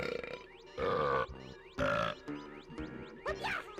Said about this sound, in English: it's an xylophone and they burp to make the noise